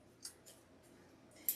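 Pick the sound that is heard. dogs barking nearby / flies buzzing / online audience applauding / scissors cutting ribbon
scissors cutting ribbon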